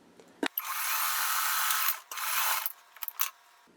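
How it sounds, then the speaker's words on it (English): A sewing machine stitches a confetti quilt block in loud, steady whirring runs, one long burst and a shorter one, broken by brief clicks and taps between. "let me sew this to here"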